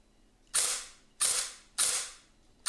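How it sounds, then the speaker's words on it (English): A Tokyo Marui Vz.61 airsoft gun with a LiPo battery mod fires four evenly spaced single shots, each a sharp mechanical crack with a short decaying rattle, close and clear with no talking. "So here's the shooting test."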